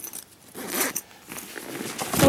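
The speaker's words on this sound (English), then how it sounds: "Zip this up." Close zipping on a packed travel bag, a couple of quick rasping pulls with small rustles between, no voices.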